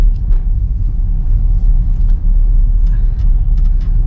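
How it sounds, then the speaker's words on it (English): A Ford Freestyle diesel car accelerates with a loud, close, continuous low engine rumble and road noise, steady throughout with no talking. "the car surges ahead at the touch of an accelerator"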